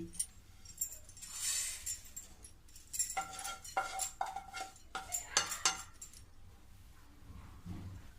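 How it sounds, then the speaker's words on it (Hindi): A spoon clatters and scrapes in a pan while sesame seeds and spices roast over a low flame, with irregular close metallic clinks and stirring strokes that are soft and fairly faint. "अब इसको भी धीमी गैस में थोड़ी देर भूंजूंगी।"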